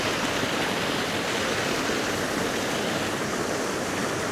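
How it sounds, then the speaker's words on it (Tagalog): A small waterfall pours into a clear, flowing river at a dam, giving a loud, steady rushing of water with no breaks, close by and alone. "May falls dito."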